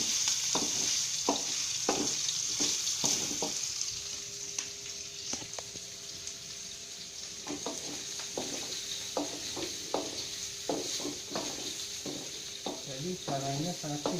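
Pork frying in hot oil with garlic and shallots, a steady sizzle broken by frequent scraping stirs of a spatula in the pan, close and continuous with a brief quieter stretch midway.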